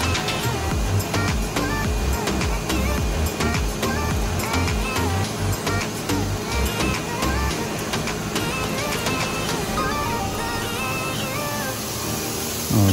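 An Atlas Copco GA75VSD rotary screw air compressor with a frequency inverter running in an industrial setting, a loud, continuous dense mechanical roar with a steady hum underneath, unbroken throughout.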